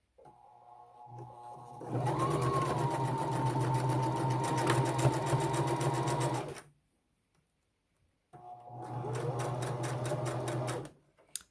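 Singer sewing machine stitching in two bursts, a rapid, even mechanical chatter with a whirring motor tone, separated by a short silent pause.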